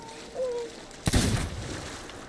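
A single sharp gunshot crack in a video game bursts out loud mid-clip and decays into a rumbling tail, after a quieter tonal game sound.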